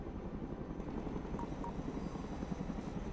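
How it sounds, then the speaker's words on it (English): A helicopter's rotor in the video game Broken Arrow drones on steadily, a dense, even thrumming that holds at a constant level throughout, with no voices. "Let's go and recover it with our helicopter."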